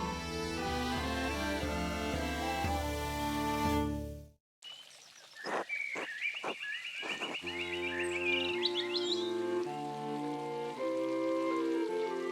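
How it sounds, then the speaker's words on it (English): In the game Pentiment, music gives way after a brief silence to a chatty bird, with repeated sharp chirps and a warbling trill over a low sustained tone, before music returns. "That bird might be a little too chatty."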